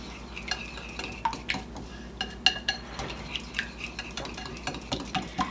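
Egg and milk batter for French toast whisked in a bowl, a run of light rhythmic clicks and taps of the utensil against the dish, close and fairly quiet, with no talk.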